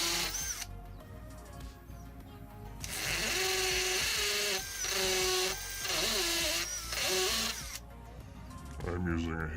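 A hammer drill whines loudly in bursts, grinding into concrete in several long runs with brief pauses between.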